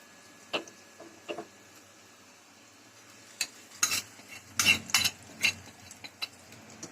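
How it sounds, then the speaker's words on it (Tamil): A spoon stirs sautéed onion and curry leaves into wheat dosa batter, giving sparse soft scrapes and light clinks that come a little closer together toward the end, close and fairly quiet. "மாவுல கொட்டி நல்லா கிண்டிக்கோங்க"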